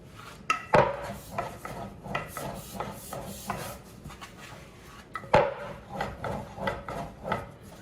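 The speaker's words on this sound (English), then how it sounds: "placing your dowel in the center and moving it up and back, up and back" A wooden dowel rolls over fresh pasta dough on a board, making soft repeated rubbing and rolling sweeps in an up-and-back rhythm, with a couple of sharper knocks as the dowel is repositioned.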